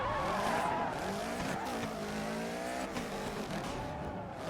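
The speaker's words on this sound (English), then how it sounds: "drift under the truck trailers" Tires squeal steadily as a car drifts in the rally video game Dirt 3, with a continuous skid and engine drone under the truck trailers and no speech.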